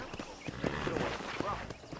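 Horse hooves clip-clop in the Red Dead Redemption video game, a steady rhythm of hoofbeats at moderate level mixed with speech and game sounds.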